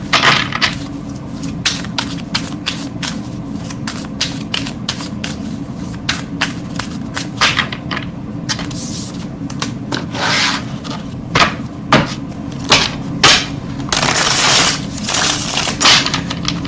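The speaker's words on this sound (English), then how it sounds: "You see me tapping now." During a tarot reading, close, loud fingertip tapping and rubbing on cards runs in quick, irregular clusters, busiest near the end, with no talk over it.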